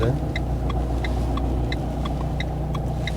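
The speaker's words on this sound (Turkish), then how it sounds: "Bekleyelim bekleyelim araç geliyor." A car approaching at a roadside traffic stop, its steady engine rumble and road noise filling the scene loudly and continuously, with periodic faint high ticks above the drone.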